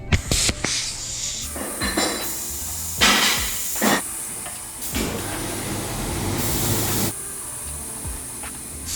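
Temporary compressed air hisses into the air suspension bags of a slammed 1962 Chevy C10 stepside pickup, a loud close rush of air in several bursts with sharp clicks and brief pauses, with no talk.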